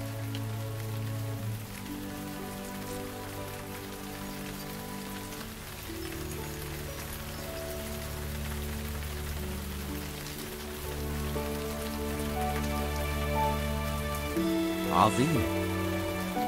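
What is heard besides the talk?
rain falling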